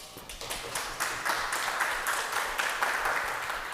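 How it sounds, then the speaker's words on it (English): Round of applause for the presenters at an engineering faculty conference, moderately loud rhythmic clapping from a modest audience, steady and close, with no voices over it. "Let's give them both a round of applause."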